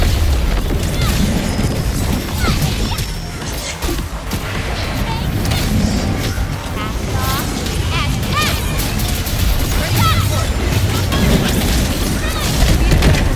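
Video game weapon fire and explosions, loud continuous booms and crashes with battle effects, under a voice calling out commands.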